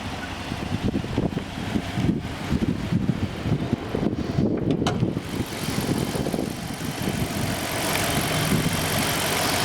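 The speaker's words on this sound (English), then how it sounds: "The engine is super quiet. There's no ticking noise." 2015 Dodge Charger Police Pursuit with a 5.7 HEMI V8 and AWD idling with a low, even rumble, partly masked by wind buffeting the microphone, and no talking.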